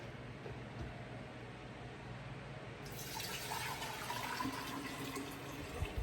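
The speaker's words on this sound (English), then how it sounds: "I'm gonna grab a jar here and just pour it in there." Chopped peaches and their liquid pour into a jar with a steady wet splashing and trickling that grows fuller partway through, close by with no talking.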